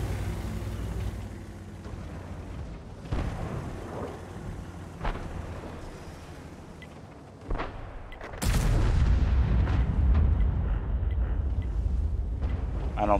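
Tank cannon shots and hits on an armoured tank in World of Tanks: a few heavy booming impacts, then a sudden loud blast followed by sustained rumbling roar, with game sounds underneath.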